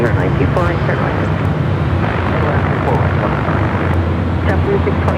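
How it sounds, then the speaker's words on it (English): Dreamliner jet arriving at Los Angeles airport from Paris, a low sustained engine rumble under continuous loud talk. "We got that Dreamliner coming from Paris."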